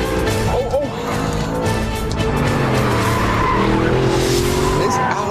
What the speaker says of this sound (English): And the engine response is magic, and it sounds so good as well